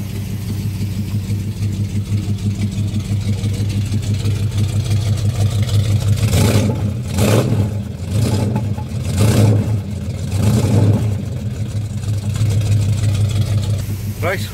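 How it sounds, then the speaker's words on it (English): A Dodge Charger idles with a deep, steady exhaust rumble after its cooling system has been replaced, punctuated by several blips of the throttle midway. "a quick walk around of the car and how the exhaust sounds at the back"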